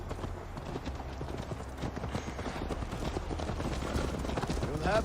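Horse hooves clip-clop in a quick, steady rhythm while riding in Assassin's Creed Valhalla, moderately close and gradually building in loudness, with quiet background sound beneath.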